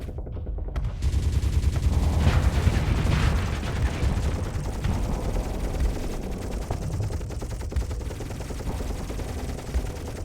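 Thermal pulse cannons firing in the space combat game Starsector, a fast stream of rapid-fire energy shots. The volley peaks loud early, then settles into a continuous buzzing, crackling barrage with a low rumble underneath, and nobody talks over it.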